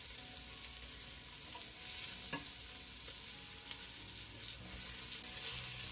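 Oxtails browning in a non-stick pot, a faint, steady sizzle with a few soft knocks and scrapes from a wooden spoon, no voices.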